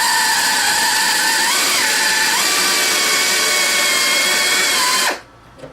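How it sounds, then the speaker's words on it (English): A spot weld cutter driven by a power drill bores into a spot weld, a loud steady whine with brief pitch dips under load, close up, that stops abruptly near the end. "It basically pulls the cutter into the weld."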